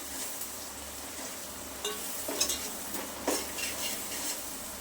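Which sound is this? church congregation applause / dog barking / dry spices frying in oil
dry spices frying in oil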